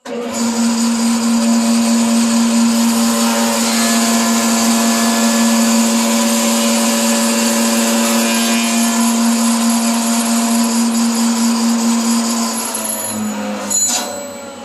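Woodworking machine running without its dust collector, a loud steady whining drone with a strong tonal hum that holds for about thirteen seconds, then a brief clatter as it winds down.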